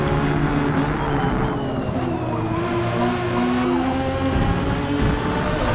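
A 1990 Mazda Savanna RX-7 rotary engine in a racing video game screams at high revs toward 8500 rpm, a loud continuous buzzing note with shifting pitch and some tire noise.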